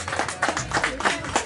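A crowd at a PCF Corrèze federal party dinner claps for the organizing team, a brief, lively burst of many hands with uneven pulses and fairly close, full applause.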